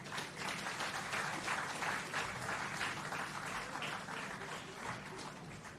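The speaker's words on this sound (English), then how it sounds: "Another round of applause for the chairman of the NCB Financial Group" Audience applause at a groundbreaking ceremony for an urban centre in Jamaica, a steady dense wash of clapping that holds evenly for several seconds with no speech over it.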